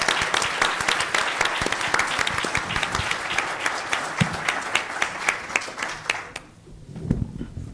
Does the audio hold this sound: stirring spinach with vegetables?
no